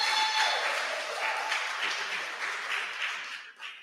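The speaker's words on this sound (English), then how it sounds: "Give yourself a lusty round of applause." An audience at a community town-hall meeting in Les Coteaux, Tobago, gives a lively round of applause, a dense steady clapping that fades slightly at the end.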